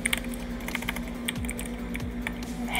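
Steady keyboard typing on a computer keyboard while entering web code, a quick run of close, light key clicks with an even, busy rhythm and a faint steady hum underneath.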